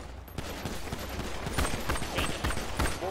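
A gunfight in a GTA roleplay shootout produces a steady run of sharp shots, several in quick succession, loud and close over a busy background, and a voice talks briefly.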